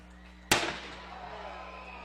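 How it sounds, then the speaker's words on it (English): A single sharp firework bang bursts over a high school football stadium during a night game, then crackles and rumbles away under a murmuring crowd. "And nice fireworks up over there."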